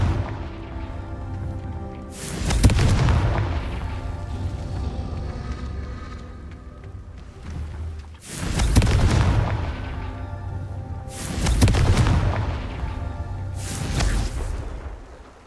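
Confringo spell blasts in Hogwarts Legacy, four loud booming explosions spaced a few seconds apart, each fading over a low rumble, with no talking.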